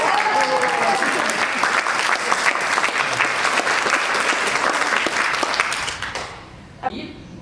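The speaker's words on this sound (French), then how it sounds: "Ça mérite un applaudissement." Applause from wedding anniversary guests, lively clapping from a room full of people with some voices mixed in, loud and steady for about six seconds before fading out, a brief sound afterwards.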